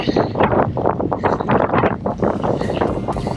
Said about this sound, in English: you can probably hear the wind noise in a minute